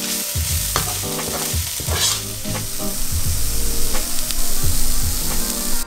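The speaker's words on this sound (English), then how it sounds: "So at this stage, I'm going to stir in my peanuts." Peanuts are stirred into pork in a hot pan for Thai galloping horses, with a loud, continuous sizzle of frying under repeated scraping and clattering strokes of a utensil against the pan.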